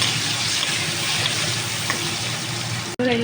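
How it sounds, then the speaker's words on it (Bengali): Pointed gourd sizzling steadily in hot oil with turmeric and salt, a close, continuous frying hiss that cuts off briefly near the end. "পটলটা দিয়ে দেবো তেলে"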